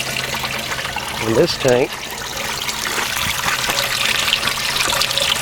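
Bait tank pump jets push water and oxygen bubbles through the tank, a steady trickling, gushing wash that runs throughout while someone talks over it.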